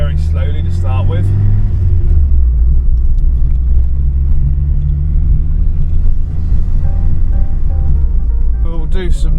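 Car out on a test drive with its engine under load, a loud steady rumble and drone running throughout with someone talking over it.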